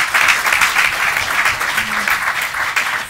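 A conference audience gives loud, sustained applause to the panelists at the close of a BECCS deployment discussion, with steady clapping throughout.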